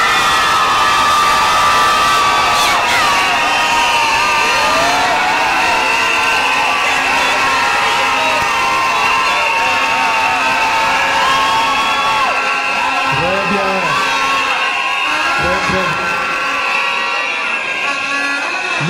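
A crowd of university graduates at a degree ceremony shouts, whoops and cheers loudly and continuously, with scattered high yells and a few deeper bellows rising out of the roar.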